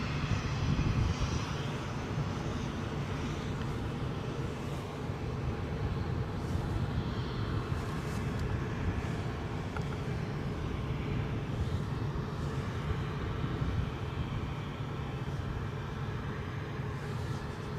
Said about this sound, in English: Probably hear the sound of a Ryanair 737